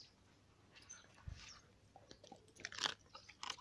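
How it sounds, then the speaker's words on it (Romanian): A Boxer mix dog crunches and chews crisp chips close to the microphone, giving a few sharp, uneven bites and mastication sounds against a quiet background. "Ia uita ce ranțăne la el."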